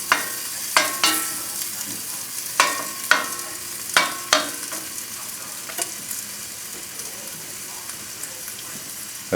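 Diced bacon sizzling in a soup pot as the fat base for a cabbage potato soup, a close steady frying hiss punctuated by several sharp clacks of stirring in the first half, then quieter sizzling.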